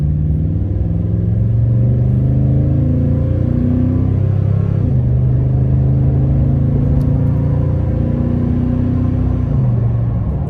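A Toyota Tundra with an aftermarket exhaust pulls away from a turnaround at low speed, its loud, deep engine rumble rising steadily with gear-like pitch shifts, close and continuous with no talking.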